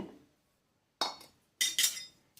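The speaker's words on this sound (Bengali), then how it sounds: "এটাকে নাড়ব অল্প একটু হালকা করে ভেজে নেব যেন সুজির কাঁচা গন্ধটা চলে যায়" Dry semolina stirred and roasted in a hot wok, a few sharp metallic scrapes and clinks of a utensil against the pan, separated by short silences, close and fairly quiet.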